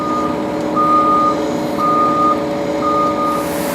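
Truck on a house construction site in Las Vegas reversing with loud, evenly spaced electronic beeps, four in a row over a steady diesel engine rumble, close by with no talk.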